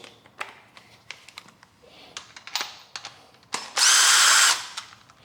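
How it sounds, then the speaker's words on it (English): A few sharp clicks and taps, then a power drill whirs loudly for under a second close by before stopping. "I'm going to definitely use the power tools."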